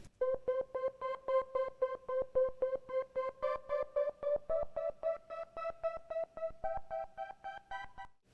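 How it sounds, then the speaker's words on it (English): A synth run through Polyverse Gatekeeper's square preset, its tone chopped into a fast, even stutter of on-off pulses that climbs gradually in pitch, playing alone. "So I ended up adding this plugin called Gatekeeper by Polyverse and the square preset from it"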